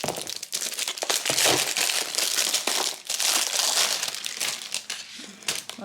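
Crinkly plastic packaging on small diamond painting kit boxes is torn open and crumpled, giving loud, continuous rustling and crackling close up.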